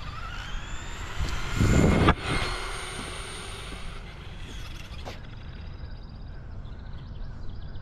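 A Traxxas Rustler 2WD RC car on a 2S battery makes a speed run, surging past in a loud, brief whoosh around the middle of the clip, then fading into steady outdoor background noise.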